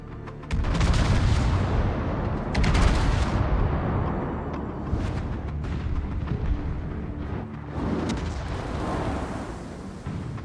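Naval gun salvos from a warship in World of Warships, heavy booming blasts at intervals with rumbling tails, loud and close, no talk over them.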